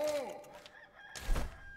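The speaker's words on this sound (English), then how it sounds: "There's a rooster." A rooster crows in the video game Enshrouded, one drawn-out cock-a-doodle-doo with falling tones, followed by a brief dull thump and a soft rustle.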